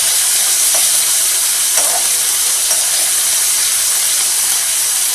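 Timur, Sichuan pepper, frying in oil with salt, giving a steady, dense sizzle and hiss that holds evenly throughout, with a few faint crackles and pops.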